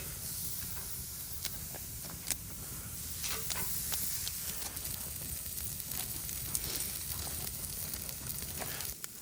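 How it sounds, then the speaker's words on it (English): Kansas City strip steaks sizzle on an oak firewood grill over a smokeless fire pit, a steady close hiss broken by scattered pops and crackles. "We're gonna go ahead and throw these Kansas City strip steaks on this grill"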